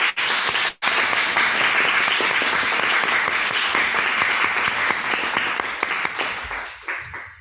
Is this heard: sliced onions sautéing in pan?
no